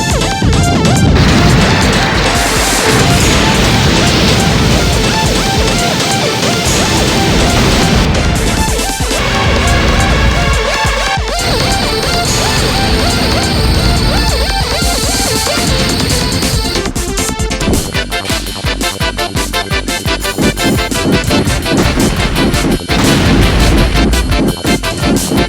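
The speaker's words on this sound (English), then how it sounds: "By holding A, you can do a regular charge attack." Loud, continuous game audio from Godzilla Generations on the Sega Dreamcast as Godzilla performs a charge attack, with crashing, smashing impacts and dense layered effects that stay at full volume throughout.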